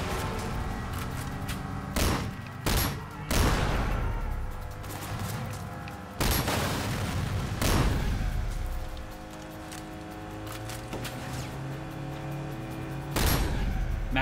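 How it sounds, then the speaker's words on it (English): Several sharp gunshots in Sleeping Dogs: Definitive Edition, aimed at car tires, ring out in irregular bursts, some paired close together, over a continuous engine and background hum, with no talking. "I can't believe how just shooting the tires does that"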